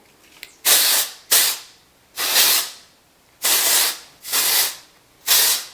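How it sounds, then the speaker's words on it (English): Six short bursts of hair texturizing spray hiss in an uneven rhythm, each a bright, close spritz separated by brief pauses. "Just take a couple of spritzes throughout the entire head."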